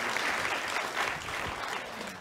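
An audience at a live conference session claps in a steady, dense burst of applause that carries through the whole moment, with no other sound standing out.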